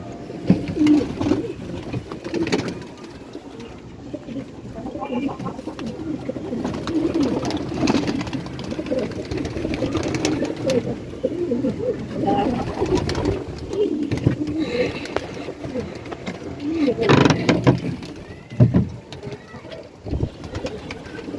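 Several pigeons coo softly and repeatedly at close range, their low calls overlapping over rustling and shuffling, with no one talking.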